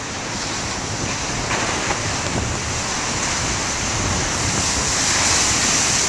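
Big ocean waves crash in a continuous roaring surf, loud and broadband, building slightly toward the end with wind noise mixed in and no voices.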